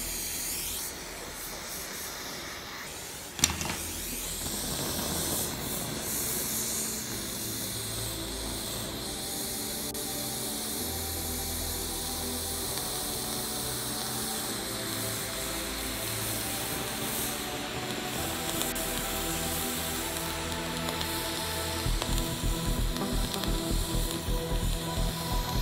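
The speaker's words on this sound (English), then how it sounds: "Gonna overheat the torch doing that" An oxyhydrogen torch flame roars with a loud, steady hiss for the whole stretch, broken by one sharp pop early on, while moisture boils away under the flame.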